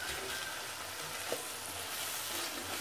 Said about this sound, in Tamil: நல்லா வதக்கி விட்டுக்கலாம். இது நல்லா வதங்கட்டும்.